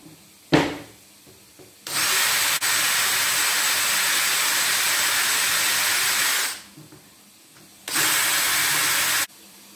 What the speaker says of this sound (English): drill them to a depth of about 12 millimetres.